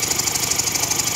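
A rebuilt Quincy 210 air compressor running steadily, a close, even mechanical chugging hum with a fast regular pulse and a bright whine on top, heard alone.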